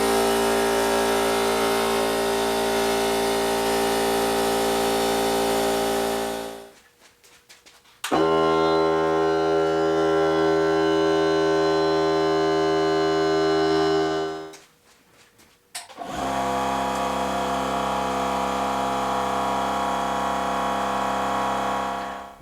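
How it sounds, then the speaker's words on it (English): Three air compressors run one after another: a Milwaukee M18, a Ryobi 18-volt and a Harbor Freight unit. Each gives a loud, steady mechanical hum with strong tonal whine, and short silences separate them. "put this Milwaukee compressor to the test and see just how quiet it is"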